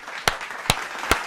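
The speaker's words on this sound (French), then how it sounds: "on t'applaudit, frérot. On t'applaudit." A few slow, separate claps sound during a radio show, three evenly spaced sharp hits over a soft background hiss.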